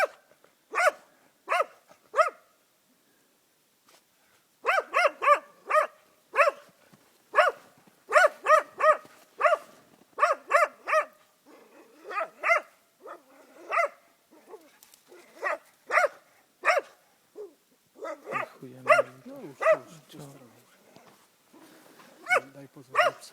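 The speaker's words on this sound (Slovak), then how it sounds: "Daj pozor na psa." Dog barking in repeated bursts, loud and close, with short pauses between volleys; a voice cuts in near the end amid the barks.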